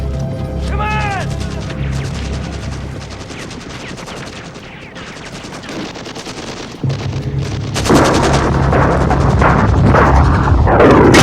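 Gunfire from a sniper rifle aimed at a helicopter in the 1993 film Sniper, with loud shots and crashing impacts building into a dense, heavy burst of noise, mixed with shouting voices and score.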